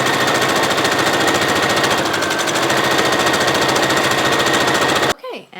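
A sewing machine runs steadily, stitching a cardigan with a fast, continuous mechanical rattle that stops abruptly near the end, followed by a brief soft sound.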